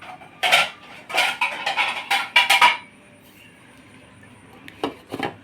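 A lid clatters and scrapes onto a pan covering pizza dough, giving a quick run of close metallic knocks, then a pause and two or three softer clinks.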